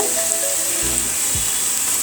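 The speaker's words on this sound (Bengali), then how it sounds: "আমি এতে একটু আস্ত জিরে দিয়ে দিব দিয়ে দিচ্ছি আস্ত জিরে দিয়ে দিয়ে একটু ভেজে নিব" Whole cumin seeds frying with onion, carrot and potato in a pan make a loud, dense, even sizzle close by, broken by a couple of brief stirring scrapes.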